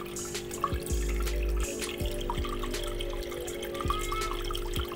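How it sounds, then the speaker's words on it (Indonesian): Water running out of a turtle pond's undergravel filter drain pipe during a backwash, a steady close trickle with occasional drips and a low hum underneath. "Dan kita bisa lihat itu airnya mengalir untuk membuang kotoran."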